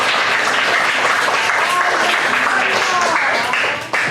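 Children and teachers applaud together at a church children's Bible school service, a dense, steady wash of clapping that holds loud for about four seconds before dipping at the end, with some voices mixed in.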